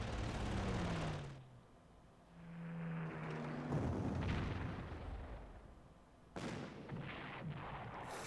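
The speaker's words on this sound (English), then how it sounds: "Try to suppress the artillery." Artillery fire and explosions in the Panzer Corps strategy game about the invasion of Poland: several loud booming blasts with rumbling tails and a sharp burst near the end, with no talking.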